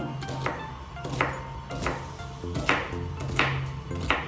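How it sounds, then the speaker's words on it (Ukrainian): Knife chopping onion on a cutting board for a zucchini and meat bake, with sharp, regular strikes of varied spacing that sit fairly close and loud, and a low steady hum running underneath. "Спочатку подрібнюємо цибулю."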